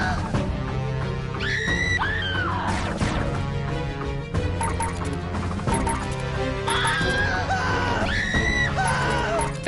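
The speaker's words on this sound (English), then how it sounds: "Everyone's screaming, oh my gosh." Shrill screams rise and fall again and again over steady music and game noise from a Jackbox Party Pack 5 party game, with crashing hits mixed in throughout.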